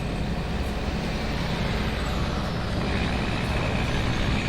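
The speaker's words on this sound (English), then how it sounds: "I wonder if I could turn down the traffic sound just a little bit." Steady truck engine rumble and roadway traffic noise in a truck-driving video game, a loud continuous drone with faint higher hiss and no talk.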